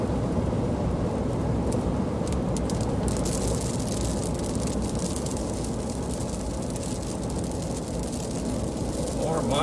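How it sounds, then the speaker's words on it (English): Heavy monsoon rain during an Arizona storm roars as a dense, steady broadband wash heard from inside a moving car, with road noise blended in and no clear talk. "Monsoon rain."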